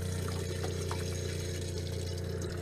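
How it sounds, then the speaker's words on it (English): A Class B RV's fresh water pump runs in a steady, close drone with a constant tonal hum, and water rushes continuously through the lines beneath it. "Turn on the pump. And we're gonna get some water flowing through these lines."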